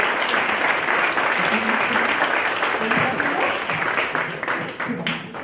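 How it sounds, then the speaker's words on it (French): Audience at a corporate innovation awards ceremony giving a loud, sustained round of applause, dense clapping that holds steady, then thins out and fades over the last second or two, with some voices mixed in. "On les applaudit encore."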